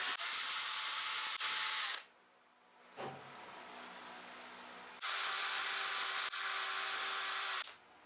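A power drill bores holes in perspex in two long bursts of high whining spin, separated by a quieter gap with a brief clunk, recorded close up without talk.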